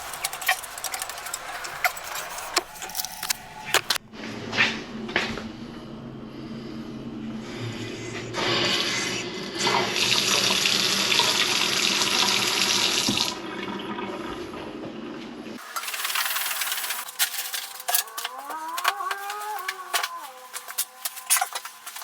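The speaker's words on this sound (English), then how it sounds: "Turn the water back on, hope and pray for no leaks." Water rushes from a tap after the supply is turned back on in a bathroom under repair, a loud steady flow that cuts off, followed by quieter squeaks and trickles.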